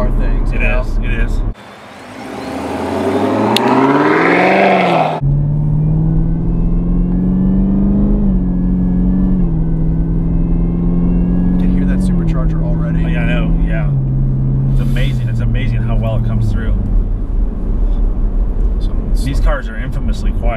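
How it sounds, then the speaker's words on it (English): The supercharged engine of a 2017 Chevrolet Camaro ZL1 with a 10-speed gearbox drones steadily from inside the car on the road, then winds up into a loud, rising whine as it accelerates. People talk over the engine noise. "it's amazing how you can hear that supercharger wind up"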